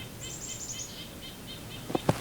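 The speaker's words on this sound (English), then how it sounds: "And now, the nuthatches are angry about something," Nuthatches and chickadees calling outdoors in winter, a quick run of high thin chirps followed by soft repeated notes and two sharper, closer calls at the end, no talk.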